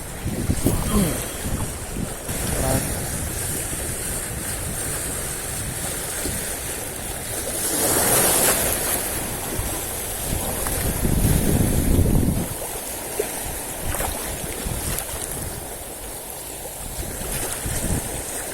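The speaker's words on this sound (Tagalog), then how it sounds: "Malakas ang alon dito." Strong waves churn and slosh against a boat amid gusty wind buffeting the microphone, with a brief crashing surge midway.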